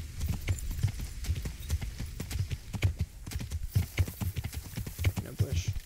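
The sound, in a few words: horse hooves clip-clopping in a video game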